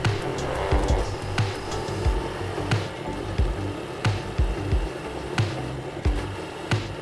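A Honda Super Cub motorcycle rides along with a steady engine drone and wind noise, punctuated by sharp periodic knocks and brief surges as the rider shifts up.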